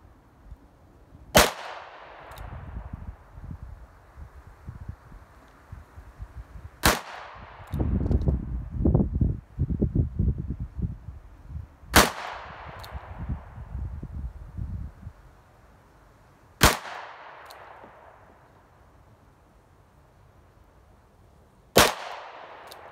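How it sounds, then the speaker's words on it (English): A Ruger Blackhawk convertible revolver fires .45 Long Colt rounds at an outdoor range: five loud, sharp single shots spaced several seconds apart, each with a short ringing decay, and low rumbling handling noise between some shots. "first up, 6 rounds of 45 long Colt. 15 yards. A little accuracy test offhand"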